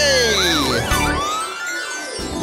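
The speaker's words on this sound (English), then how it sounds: "the siren was pretty good" A children's-show fire truck siren wails loudly and close, its pitch sweeping up and down in warbling swoops before fading into a lower held tone.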